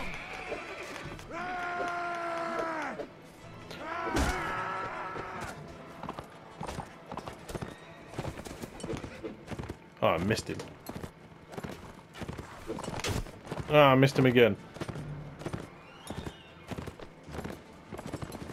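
Horses' hooves clip-clop in a medieval battle in Mount & Blade: Warband, with repeated whinnies and neighs breaking through at close range. A player talks over the noise.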